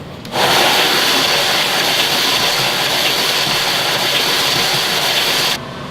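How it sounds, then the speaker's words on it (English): A power grinder works down wood flush on a bajo guitar build, a loud, steady rushing grind that kicks in abruptly and cuts off near the end. "we're gonna grind all this down"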